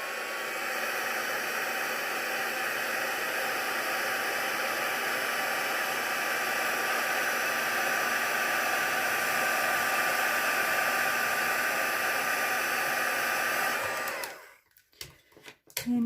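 A heat tool for embossing blows steadily over a handmade birthday card, a loud, constant whooshing hiss lasting about fourteen seconds before it switches off, followed by a few small handling sounds.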